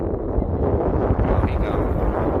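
Strong wind on a windy day buffets the microphone outdoors, a loud continuous low rumble with gusty surges throughout.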